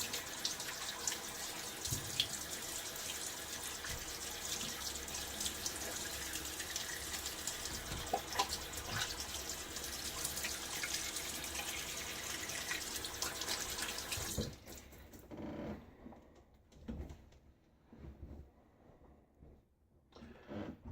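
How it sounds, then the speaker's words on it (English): A bathroom tap runs water for wetting the face before a shaving pass, a steady close rushing flow that cuts off partway through, leaving faint drips and splashes. "And we will wet the face and get ready for pass 3."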